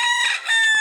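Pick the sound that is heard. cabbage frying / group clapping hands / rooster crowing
rooster crowing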